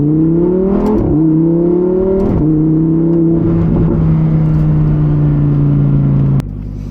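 Lamborghini Huracan Evo Spyder engine in Corsa mode, a loud steady drone that rises in pitch in a few stepped surges before cutting off abruptly near the end.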